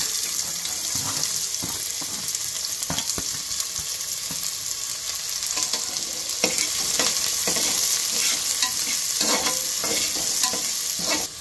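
Onions sautéing in oil and ghee with cinnamon, clove and cumin for chicken gravy, a loud continuous sizzle and crackle with irregular stirring scrapes and clatters growing busier toward the end.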